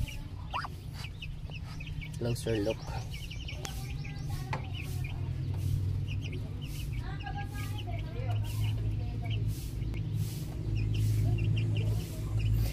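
Native chickens cluck and chirp on a Philippine farm alongside Muscovy ducks, several birds calling in scattered bursts over a steady low hum, with a person talking briefly.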